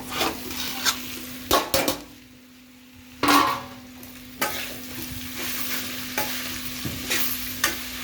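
A spatula stirs tempering through urad dal chutney in a pan, with a soft frying sizzle broken by repeated scrapes and metallic clanks against the pan. One brief quiet pause occurs, and no one speaks.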